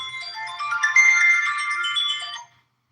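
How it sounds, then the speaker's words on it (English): A phone ringtone of bright, magical-sounding bell chimes plays loudly and alone for about two and a half seconds with layered sparkling tones, then cuts off abruptly into silence. "That's a very feminine ringtone."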